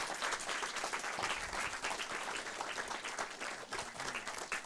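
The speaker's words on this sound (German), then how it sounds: "wir sagen jetzt schon mal einen großen Applaus" Steady applause from a cinema audience, dense continuous clapping that holds at an even level throughout, with no voices standing out.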